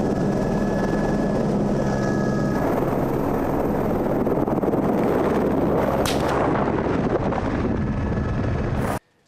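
A helicopter carrying pilots and veterinarians chases a black rhino in Chad, its rotor roaring loud, close and continuous with heavy wind buffeting before cutting off abruptly.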